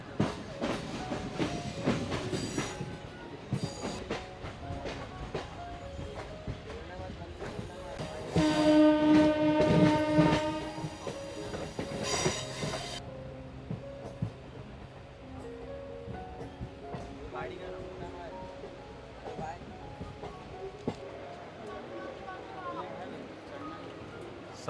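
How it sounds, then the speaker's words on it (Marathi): Crowded suburban train pulling out of Diva station platform 8, rumbling and clattering over rails with a long horn blast midway, then steady running noise under a voice talking. "बरोबर 8:45 ला आपली ट्रेन पण रवाना झाली आहे दिवाच्या प्लॅटफॉर्म नंबर 8 वरून"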